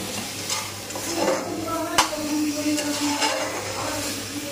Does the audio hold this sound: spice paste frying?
yes